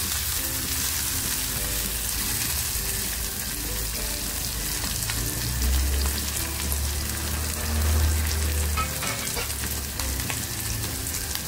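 Green chillies frying with onion in a pan for egg masala, a dense continuous crackling sizzle, close and steady for the whole stretch with no voices.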